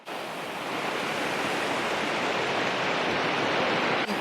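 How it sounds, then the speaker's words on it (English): Rushing water roars steadily outdoors, a dense, loud wash of sound that fills the whole span without any voices. "I wonder how well you're going to be able to hear me over this water."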